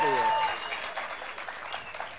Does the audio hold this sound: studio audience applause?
yes